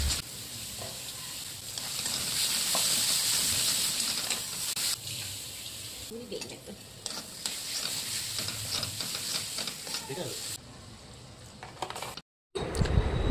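Onions and spice paste fry in a pan for a Bengali mete chorchori, a continuous close sizzle broken by stirring scrapes and clinks, briefly cutting out near the end.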